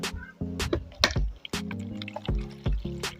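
A little water is poured into a small plastic box for a hot-oil-and-tomato kitchen test, giving close, uneven splashes and gurgles in short bursts with brief gaps between them.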